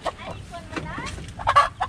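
Chicken clucking in short, nearby bursts on a rural Occidental Mindoro farm, with people talking over and around the calls.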